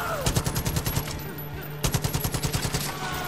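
Machine gun fire in Far Cry 5, rapid rhythmic bursts of shots in two separate strings with a brief lull between, loud and close, with a steady tone humming underneath.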